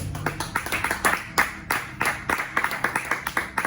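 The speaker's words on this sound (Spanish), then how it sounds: "Dele palmas al Señor." Rhythmic clapping from a church congregation during a sermon, steady repeated hand claps in a fairly regular beat at moderate loudness, with a few voices mixed in.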